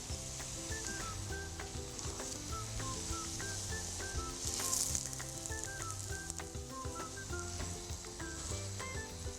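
Fritters made with self-raising flour shallow-fry in hot oil, giving a steady, even sizzle and crackle that holds at a constant level throughout, with no voices.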